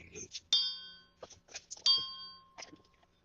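A high carbon steel bell is struck twice, each strike ringing out clear and bright with a long, slowly fading tone, with faint background voices in between.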